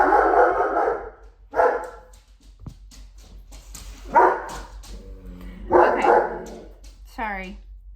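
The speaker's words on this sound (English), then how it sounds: "you're going to hear dogs barking" Several dogs bark in sharp bursts nearby at a home, mixed with whimpers and yips, while someone speaks to calm them between the outbursts.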